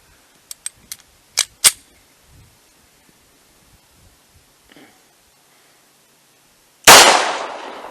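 A Colt Compact 1911 in .45 ACP fires one loud, sharp shot into ballistic gel after a series of small clicks and faint handling knocks, then the blast decays quickly.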